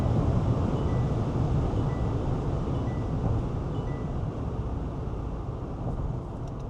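Constant loud roar of wind and road rumble inside a Foton Tunland V9 pickup at about 180 km/h, steady throughout with no voices.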